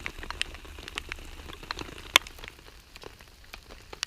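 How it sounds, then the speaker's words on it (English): Light rain patters softly and irregularly on a surface at a campsite in Mora, Sweden, with scattered sharp drips standing out from a quiet background. "it's still raining, as you can see"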